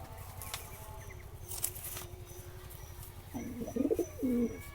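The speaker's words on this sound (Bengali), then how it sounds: "এটা 2019 সালের কবুতর" Pigeons cooing close by, a few soft throaty coos rising toward the end over a faint steady background hum.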